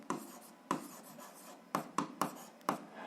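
A pen writes by hand while working an algebra exercise, giving a handful of quiet, sharp strokes and taps spaced irregularly over a faint background.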